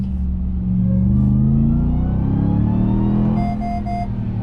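A Ram TRX pickup truck accelerates hard in the city, its big engine roaring loud and close with a deep rumble as the revs climb steadily, and a faint whine rising above the exhaust.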